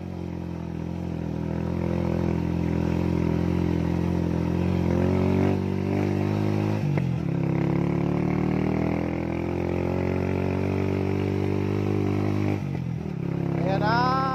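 Motorcycle riding along a road in the Philippines on a copra delivery run, its engine a steady close drone throughout with a few clattering bumps, while someone talks over it.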